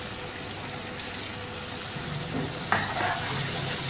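Ground spices, red chili, coriander powder, cumin powder, turmeric and crushed red chili, frying in a chicken karahi masala hiss steadily, with a few soft stirring scrapes and a brief clink partway through.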